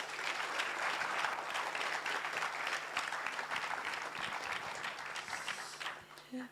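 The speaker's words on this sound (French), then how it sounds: "Applaudissements s'il vous plaît." An audience at the Vox Milo 2025 closing ceremony breaks into dense, sustained applause that tapers off after several seconds.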